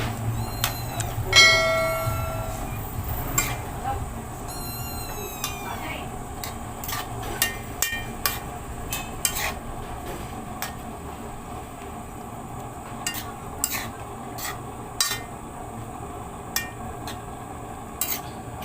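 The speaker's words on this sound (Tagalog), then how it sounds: "Tapos i-mix natin para maganda." Metal utensil clanking and scraping against a pan while stirring pakbet vegetables with shrimp paste over a used-oil stove, irregular ringing knocks spread across the stretch over a low background hum, with some brief voice sounds.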